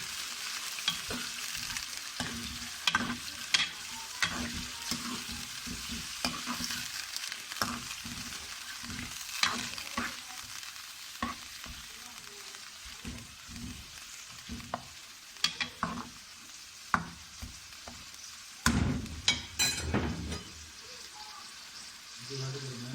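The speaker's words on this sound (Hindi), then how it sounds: "इसमें हम इसको फ्राई कर लेंगे।" Peshawari mutton karahi fries in a pan, with a steady close sizzle broken by repeated scraping and clattering strokes of a spoon, some louder clanks near the end, and a faint voice now and then.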